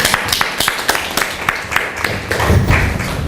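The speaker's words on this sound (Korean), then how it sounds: "박수 좀 쳐주십시오." Audience at a Korean meeting applauding, a dense patter of claps mixed with thumps and taps that thickens toward the end, fairly loud and close, with no speech.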